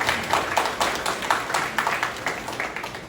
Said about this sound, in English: round of applause for Jaspreet